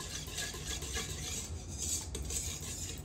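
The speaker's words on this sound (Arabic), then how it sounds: "يعني عم بخلط هلا زيت وزبده" Oil and butter being stirred together in a bowl while making a dough: a steady, faint scraping and swishing of a utensil against the bowl, continuous and close, with no talking.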